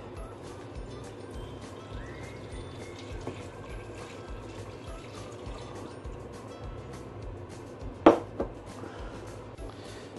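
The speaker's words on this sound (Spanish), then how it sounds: "vamos a incorporar el agua que falta para sumergir todo" Water poured into a pot of fabada asturiana, a Spanish bean stew, to cover the ingredients; a low continuous splashing fill runs throughout, with a couple of sharper clinks near the end and no talking.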